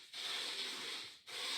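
Packing tape being pulled off a tape gun for sealing shipping boxes, a steady hissing rasp that runs about a second, breaks briefly, then starts again, heard alone with no voices.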